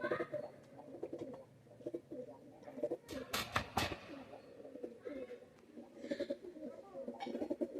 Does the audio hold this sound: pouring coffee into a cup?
no